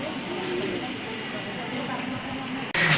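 A Kollam to Sengottai train stands at a station platform, giving a steady, broad rumble of idling rail noise and station ambience throughout, with a sharp louder burst near the end.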